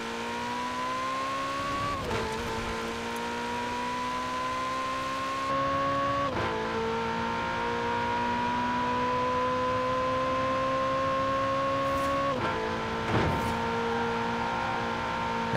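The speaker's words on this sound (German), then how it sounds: "Ja, komm, weiter beschleunigen." A racing car engine in Forza Horizon 4 revs loudly and continuously, pitch climbing steadily then dropping sharply at each gear change, three shifts in all, no talking.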